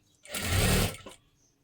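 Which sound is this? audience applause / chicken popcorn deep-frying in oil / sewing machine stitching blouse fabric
sewing machine stitching blouse fabric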